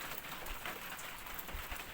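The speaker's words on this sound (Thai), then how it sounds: "บ้านเรานี่ฝนตกหนักมากเลยครับ" Heavy storm rain falls on a farm, a continuous soft hiss of drops on surfaces, steady and fairly faint with no voices.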